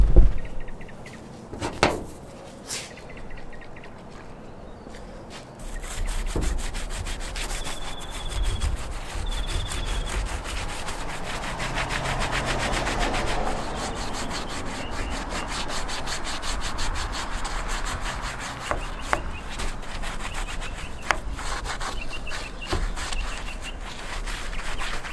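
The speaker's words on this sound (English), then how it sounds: "So we let this sit, we're gonna start scrubbing it again." A brush scrubs a dirty old steering wheel treated with rust dissolver, giving close, continuous rough rubbing and scratching strokes with a few knocks and bumps.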